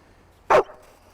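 A single sharp dog bark given on command, short and close, standing alone against a quiet background.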